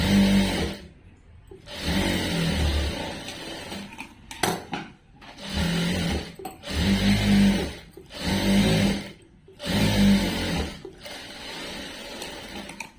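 A sewing machine stitches a dress in repeated bursts of rapid mechanical whirring, each lasting about a second, separated by short pauses and occasional handling clicks, close and clear.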